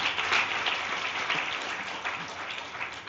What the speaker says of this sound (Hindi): वो दीदी के लिए ताली बजाओ